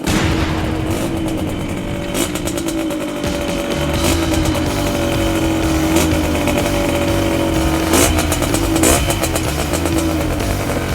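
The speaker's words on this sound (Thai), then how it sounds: "เสียงท่อก็จะมีความเป็นแบบ เป็นแบบโบราณโบราณนิดนึง" A Yamaha DT125 Mono motorcycle idles with a loud, throaty, old-fashioned exhaust burble, punctuated by several sharp throttle blips over a steady rumble.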